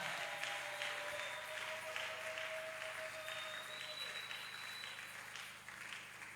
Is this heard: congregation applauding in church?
yes